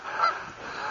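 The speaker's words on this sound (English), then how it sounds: "Been running into a lot of geese out here." Geese honk by a lake on a mid-March hike, a close burst of loud, raspy calls repeating over about a second, with no talking.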